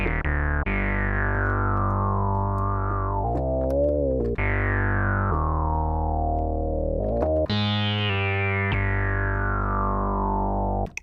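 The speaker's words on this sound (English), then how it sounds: "Dirty sweep sound." A dirty sweep synthesizer preset from Rob Papen BLUE-3 plays alone: sustained distorted tones with repeated downward filter sweeps, loud and continuous, with a brief wobbling, chorus-like modulation partway through.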